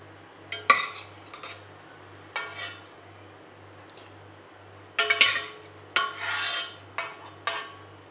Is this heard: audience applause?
no